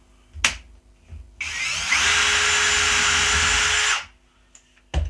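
A Worx WX177.9 brushless switch driver in drill mode whirs up and runs steadily for a couple of seconds boring a small pilot hole, bracketed by sharp clicks and handling knocks, close and loud.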